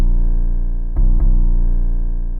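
A Mercury 808 trap bass sample played dry with no effects: a loud, sustained sub-bass tone with rich harmonics, briefly retriggered twice near the middle, then holding to the end.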